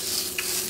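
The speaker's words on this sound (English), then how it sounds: "the butter's already melted down and starting to sizzle" Melted butter sizzling in a frying pan, a steady bright hiss that runs through the whole short moment with one faint tick of utensil contact.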